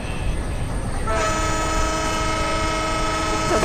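An Indian express train passes on the opposite track in Train Simulator (RailWorks 3), with a steady rumbling roll joined by a sustained horn after the first second and continuing to the end.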